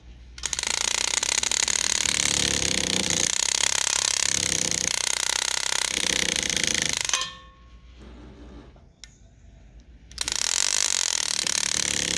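A ratcheting tool unscrewing a part makes a loud, fast mechanical clicking whir that runs for about seven seconds, drops to quiet handling for a few seconds, then starts again.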